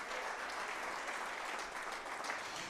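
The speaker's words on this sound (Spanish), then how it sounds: "Fuerte ese aplauso a nuestro Dios en esta tarde." An afternoon church congregation bursts into strong, sustained applause, a dense continuous crackle of many clapping hands filling the room without pause.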